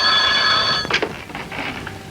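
A telephone rings loudly with a steady electronic trill for under a second, then stops, leaving softer scattered clicks and handling noises.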